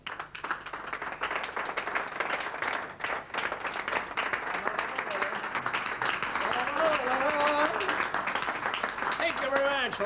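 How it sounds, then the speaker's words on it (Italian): Audience applause at a 1993 cabaret and close-up magic show, a dense steady patter of clapping that holds for the whole stretch, with a voice and tonal sounds rising over it in the later seconds. "Per cui il vostro applauso è tutto per Barry"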